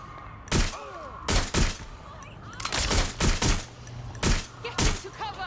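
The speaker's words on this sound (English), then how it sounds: "Shots fired!" Rapid gunfire bursts from the video game Watch Dogs Legion, several loud sharp volleys in quick succession, with a faint voice and background hum between shots.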